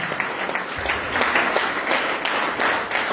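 A church congregation applauds, a steady, fairly close wash of many hands clapping with no break.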